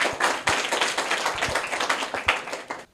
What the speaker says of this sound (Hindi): तो जोरदार तालियां हो जाए इनके लिए